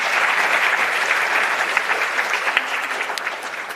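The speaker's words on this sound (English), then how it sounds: "A round of applause for all 3 of the presenters" A conference audience applauds three presenters with sustained, even clapping from many people in a hall, full and continuous throughout.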